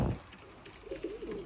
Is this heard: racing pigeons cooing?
yes